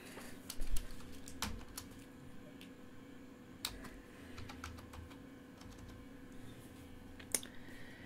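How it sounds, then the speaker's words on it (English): Keys clacking on a computer keyboard while entering a number into sign-cutting design software, a light, irregular run of taps with short pauses, close and fairly quiet. "you select text, and we're going to type"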